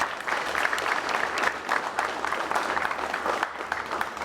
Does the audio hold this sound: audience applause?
yes